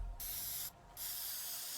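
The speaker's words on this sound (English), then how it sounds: "Spray painted." Spray painting in the video game Teardown: two bursts of hissing aerosol spray, a short one followed by a longer continuous hiss after a brief pause, close and fairly quiet with no talking.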